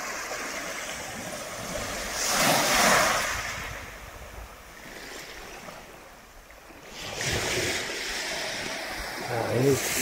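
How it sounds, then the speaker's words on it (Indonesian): Surf washing onto a beach at a small island town in Kayoa Barat in the afternoon, a steady broad wash swelling in two louder surges, with wind noise and no voices. "Ini pantainya ya"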